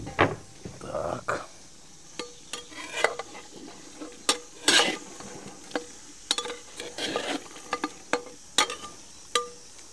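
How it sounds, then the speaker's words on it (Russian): Onions frying with seared beef in a pan for plov: a low sizzle runs under repeated sharp scrapes and clinks of a utensil stirring against the metal, with no talk. "Обжариваем лук."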